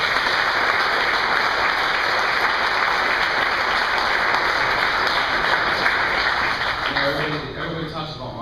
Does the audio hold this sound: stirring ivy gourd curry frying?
no